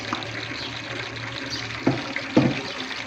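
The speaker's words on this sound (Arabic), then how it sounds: "واسيب بقى الميه تغلي خالص لحد ما تدي اللون البني على ما اغسل الرز" Rice being washed under a running kitchen tap: a continuous stream of water splashing into a sink, with a couple of sharper splashes and clunks near the end.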